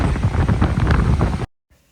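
Strong wind buffets the microphone at a river confluence in Spiti, a loud rough roar that cuts off abruptly, leaving near silence.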